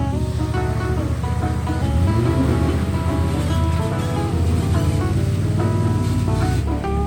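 A waterfall on a rugged off-road trail, its water a continuous broadband rush under the steady hum of an idling engine and faint tonal music.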